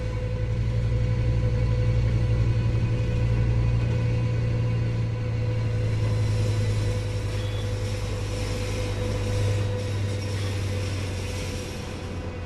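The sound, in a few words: big truck passing, from a video game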